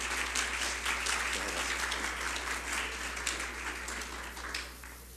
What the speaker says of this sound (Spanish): Lo recibimos con un aplauso para romper el hielo.